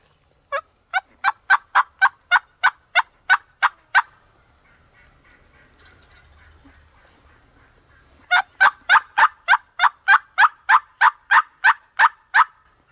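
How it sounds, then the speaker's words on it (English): Osceola wild turkeys in Florida gobbling: a rapid run of loud, sharp, evenly spaced calls, a few quiet seconds with faint distant calling, then another long rhythmic burst close by. "As soon as I started calling, I was getting answered by both hens and gobblers."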